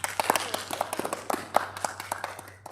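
A small group claps at a virtual dementia-friendly sports day after a toilet roll game, with light, uneven hand claps spread across a couple of seconds, fairly close and moderate in volume over a steady low hum.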